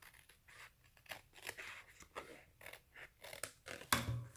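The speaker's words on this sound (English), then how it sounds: "let me trim off right here, just the tiniest bit, so it can sit a little bit flatter" Scissors snip and trim paper for a Christmas discbound planner page, a series of close, crisp cuts in an irregular rhythm with a sharper snip near the end.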